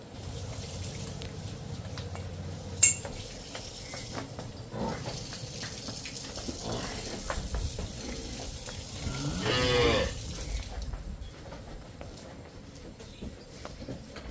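A cow gives one long, deep moo nearby, standing out against a quiet background with faint clatter and a brief sharp knock earlier.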